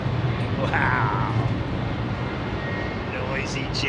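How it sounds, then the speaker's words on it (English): A Boeing 767 with winglets runs its jet engines at London Heathrow, a steady broad roar with a faint whine layered in, heard at a distance under ongoing outdoor noise. "Noisy jet, man. Got that 767 just fired up over there."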